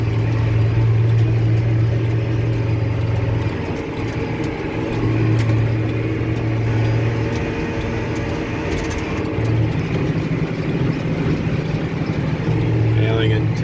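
A John Deere tractor pulls a Krone 1290 baler through a small, rough field in tenth gear, a steady loud engine drone with low rumbling and mechanical clatter throughout, slight surges in intensity.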